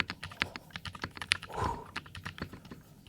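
Fingers type a quick, irregular run of light clacks on a mechanical keyboard with hand-lubed switches and GMK DMG keycaps, close up and quiet.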